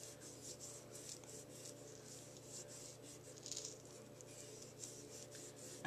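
Card stock rubbed by hand across its back during a marbling craft, a steady soft rasping friction with faint scratchy texture, close and continuous with no talk.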